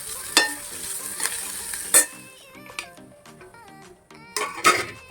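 Poha is stirred into cooked masala in a pan, producing a soft sizzle under repeated scraping and clinks of a spoon against the metal, with several sharper knocks spaced across the stretch.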